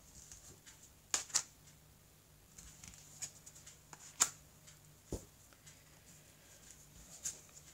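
Large cards are shuffled by hand for a nine-card spread, producing soft papery flicks and a few sharper snaps scattered over a quiet background.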